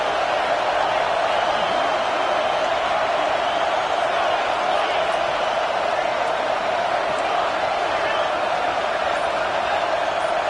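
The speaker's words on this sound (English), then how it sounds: "This crowd rising up, sensing that its defense needs some help." A football stadium crowd at a Georgia vs Notre Dame game roars steadily and loudly throughout, a dense, continuous wash of noise with no breaks.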